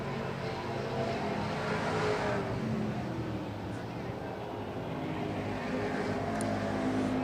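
Race cars drone around an oval track, a steady blended engine roar at a distance that rises and falls slightly, with a commentator talking over it.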